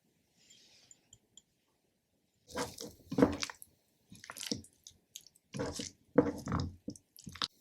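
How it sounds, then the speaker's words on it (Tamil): Fish pieces are stirred in a wet marinade with cornflour and gram flour, making soft, close squelching and squishing bursts in short uneven runs with quiet gaps. "இதை கிளறி முடிச்சதும் கூடவே சோள மாவும் கடலை மாவும் சேர்த்து கிளறிடலாம்."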